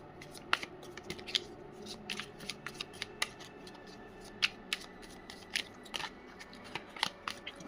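Tarot cards are shuffled and drawn close by, giving a quiet run of soft flicks, slides and crisp snaps scattered irregularly across the whole stretch.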